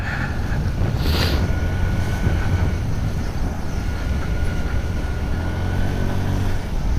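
A Hero Xoom 110 scooter engine drones steadily while riding, a low continuous hum heavily masked by loud wind rushing over the microphone.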